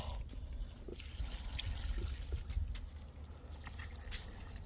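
Water poured from a pitcher onto potted tree saplings trickles and splashes softly and continuously for several seconds, close by and fairly faint.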